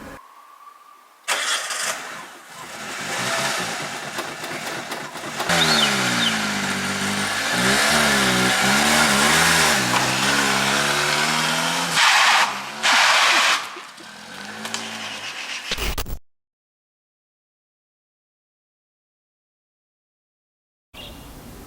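A Nissan Micra that tended to stall while driving starts after its spark plugs are cleaned, then runs loud and steady with a few revs before cutting out abruptly, followed by silence.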